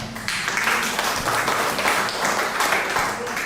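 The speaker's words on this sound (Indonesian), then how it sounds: "Kasih tepuk tangan dong buat Tuhan." A church congregation applauds during a Sunday worship service, a steady wash of clapping from many hands that holds at an even level throughout with some voices mixed in.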